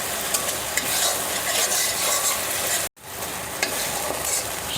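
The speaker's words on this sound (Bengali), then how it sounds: "মশলাটা ভালো করে ভেজে নেব।" Spice paste fries in a pan, a bright continuous sizzle with repeated stirring scrapes, briefly cut off near the middle before the crackling resumes.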